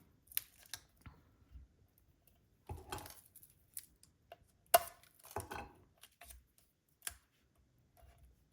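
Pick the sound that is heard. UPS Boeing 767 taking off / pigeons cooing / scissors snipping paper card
scissors snipping paper card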